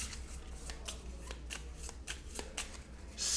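Cards from a Dark Souls card game deck are shuffled by hand in a series of quick, crisp riffles, fairly close and quiet, with no talk over them.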